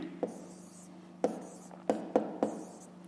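A pen scratches out a fraction by hand on paper in a quiet room, making several short, soft strokes spaced apart.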